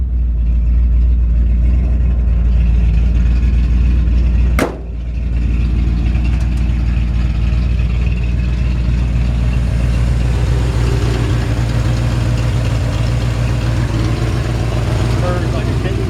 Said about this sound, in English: it's got a great sounding engine